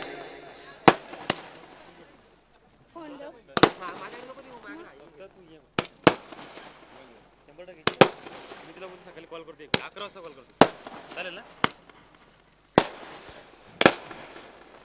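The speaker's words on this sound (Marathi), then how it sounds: "या फटाक्यांच्या आतिषबाजीमध्ये मात्र साम्राज्य या बैलाचं आगमन या ठिकाणी मंचावरती नक्कीच होत आहे." Firecrackers and fireworks go off during a bull procession celebration, with about a dozen loud, sharp bangs spaced irregularly. A crowd murmurs and talks between the blasts.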